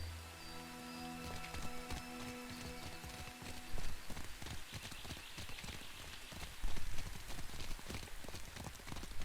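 Rain in the fantasy role-playing game Pillars of Eternity 2, a steady patter of drops on surfaces with rhythmic clip-clop knocks and tonal game sounds layered over the downpour.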